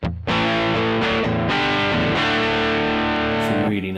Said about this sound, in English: So here's what the dirty channel amp sounds like by itself.